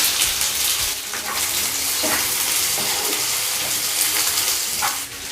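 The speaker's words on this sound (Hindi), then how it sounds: "अब हम इसमें कटी हुई प्याज ऐड करेंगे" Chopped onions hit hot oil in a pan with cumin, bay leaf and green chilli for a chicken curry, giving a steady, close broadband sizzle that runs unbroken throughout with faint stirring clinks.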